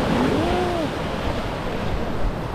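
Rough ocean waves washing onto a Jamaican shore on a windy morning, a continuous loud surf roar mixed with wind noise and no talk.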